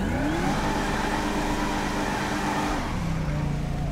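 Dodge Demon engine revving hard during a burnout in GTA 5, a loud continuous roar with pitch rising and falling, faint voices talking underneath.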